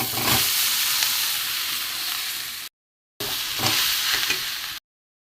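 Fish and grated boiled potato fry with spice masala in a pan, giving a steady loud sizzle and hiss broken by a brief pause, with stirring scrapes throughout.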